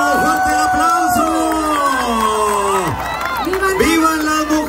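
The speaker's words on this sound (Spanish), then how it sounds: "¡Eso! ¡Fuerte el aplauso!" Loud fiesta crowd in Nuevo Laredo cheering and whooping with scattered applause, voices shouting over one another in a dense, continuous roar.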